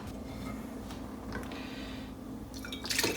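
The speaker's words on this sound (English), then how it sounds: "you're just gonna pour this into the bottles and just fill it up to the top" Kombucha poured through a funnel into bottles, a steady close trickle and drip of liquid filling glass that rises into a brighter, louder splash near the end.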